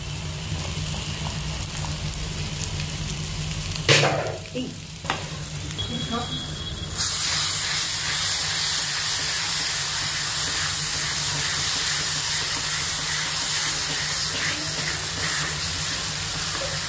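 A spice masala with Kashmiri red chili powder fries in a pan, sizzling with a few clatters, then bursts into a loud, steady steaming hiss as a little water is added and holds to the end.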